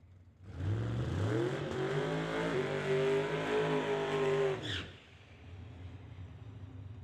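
A 1968 Chevrolet Camaro launches down a drag strip, engine bellowing loud and close for about four seconds with rising revs, then cutting off abruptly and fading to quiet ambience.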